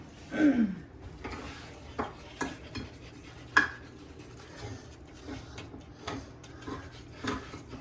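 Four-cheese ravioli mixture being stirred in a pot, with faint irregular scrapes and light clinks of a utensil against metal at a steady, unhurried pace, close but quiet and without talk.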